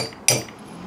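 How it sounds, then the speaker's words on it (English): Single sharp hammer strike setting a metal sewing snap through fabric layers, a short close clink-thud after a quiet moment, then faint room tone. "And then I'm just going to take my hammer and hammer that down."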